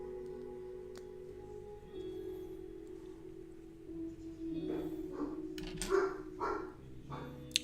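Dogs bark outdoors, a cluster of loud, fairly close barks in the latter half, over a low steady hum.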